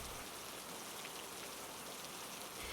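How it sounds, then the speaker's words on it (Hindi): Steady rain falls without a break, a dense, even hiss of drops on a surface with no voices. "बारिश 3 दिन तक लगातार चलती रही।"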